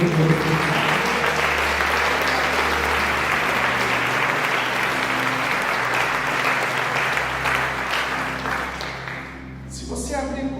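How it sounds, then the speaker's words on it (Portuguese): Church congregation applauding during a service, broad sustained clapping that fills the room with a low musical drone beneath, easing off near the end as a voice begins. "Vamos aplaudir o Senhor e glorificar."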